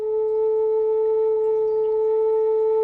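Native flute blown with a smooth, relaxed breath gives one steady, pure held note, clear and even for about three seconds with no talking.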